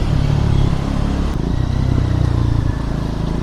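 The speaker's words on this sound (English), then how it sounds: "Okay, nice exhaust pops. I like this." A motorcycle accelerates nearby, its engine loud and rough with crackling exhaust pops breaking through the steady roar.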